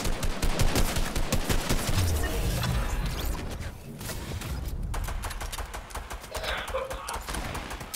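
Video game gunfire rattles in quick repeated shots through most of the stretch, moderately loud and close, with a few heavier impacts and some talking over it.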